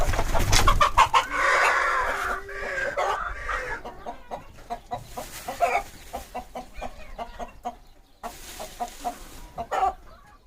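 Several chickens cluck and squawk nearby in short repeated bursts, with a louder, more raucous outburst at the start.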